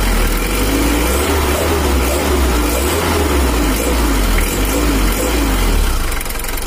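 A diesel engine runs after a valve and injection pump adjustment, a loud close-up clattering drone with low throbbing pulses and a slight rise in revs, steady throughout.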